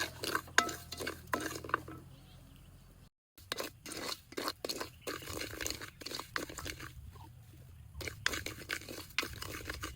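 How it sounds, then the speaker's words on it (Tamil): Rice is roasted for Sri Lankan rice payasam, stirred steadily in a pan with scraping strokes and a soft dry rustle of grains, close up and without speech, with one brief gap of silence. "கைவிடாமல் வறுக்கணும். ஏனெண்டா பொன்னிறமாக வறுக்க போகிறோம்."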